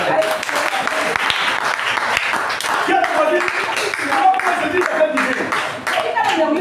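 A church congregation applauds and cheers for the witnesses, dense clapping mixed with shouts and voices, continuing loudly throughout.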